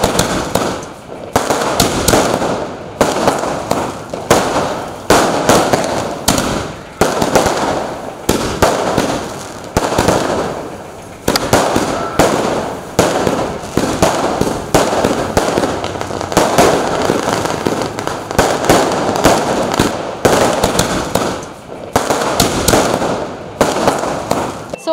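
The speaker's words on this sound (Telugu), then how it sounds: "టపాసులు పేలుస్తూ చాలా హ్యాపీగా సెలబ్రేట్ చేసుకుంటున్నారు." Diwali firecrackers and fireworks bursting across a city in Nellore, a dense, continuous barrage of loud pops and crackles with overlapping blasts throughout, near and far.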